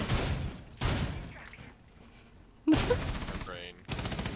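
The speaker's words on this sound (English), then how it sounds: "he's using a shotgun to make holes" Shotgun blasts tearing holes through walls in Rainbow Six Siege: a few loud, harsh bursts separated by quieter gaps, with a voice briefly audible between them.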